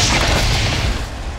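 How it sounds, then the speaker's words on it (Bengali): A bomb blast on a railway line in a Bengali action film, heard as a single loud, deep boom with a broad rumbling roar that slowly tails off. "রেল লাইনে বোমা ফেটেছে"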